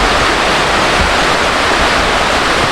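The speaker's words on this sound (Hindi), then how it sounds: "एलिफेंट वाटरफॉल जो है ये basically it divided into 3 step waterfall." Elephant Falls, a three-step waterfall in Meghalaya, pours in a dense, constant roar of rushing water, close and loud with no break.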